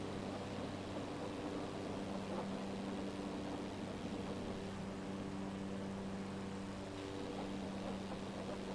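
Steady droning engine hum of a plane in a video game, a constant low tonal rumble that holds evenly throughout with no talk over it.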